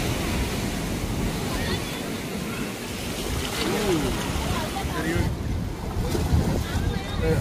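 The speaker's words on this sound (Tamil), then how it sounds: "அடுத்து அலை வர போதும்." Ocean surf rolling onto a beach at Mirissa on the southern coast of Sri Lanka, a steady, loud wash of breaking waves with wind buffeting the microphone throughout and no clear break in the roar.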